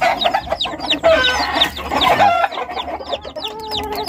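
A mother hen clucks repeatedly and agitatedly right beside her newborn chicks, the calls coming in quick, close bursts with faint peeping mixed in on a farm.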